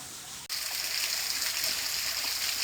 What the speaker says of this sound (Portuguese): Essa é a vista da cachoeira aqui de baixo.